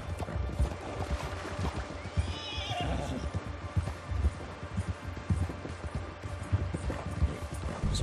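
Horse whinnying with clip-clopping hooves in Red Dead Redemption 2, a neigh rising midway over a steady bed of hoof and ambient game noise.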